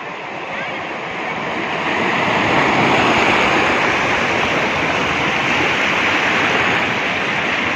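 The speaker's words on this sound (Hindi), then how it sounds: "ये देख सकते हो पानी की लहरें कितने मस्त दिखाई दे रहे हैं।" Sea waves rolling in at Bandstand beach in Bandra, Mumbai, a loud continuous roar of surf that swells after a couple of seconds and stays strong.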